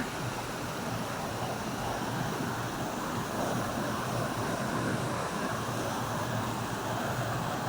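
Water rushes down Huay Kaew waterfall in a dense, continuous roar, heard up close and unbroken, with no voices over it.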